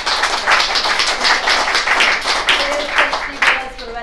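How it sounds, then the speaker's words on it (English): Audience clapping at a live WordPress meetup in Portsmouth, a dense run of hand claps at steady loudness throughout, with some voices mixed in. "Can I just give a big round of applause to you"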